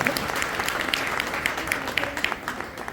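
Hearty applause from an audience honouring the guests on stage at an Aastha Lifecare Corporation event, steady crowd clapping with distinct individual claps popping out, some voices mixed in underneath.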